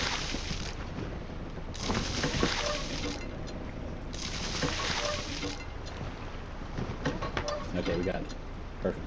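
Rushing flow of water from a ship's bilge pump in the sailing game Following Seas, a continuous wash that swells and eases in waves, fairly close.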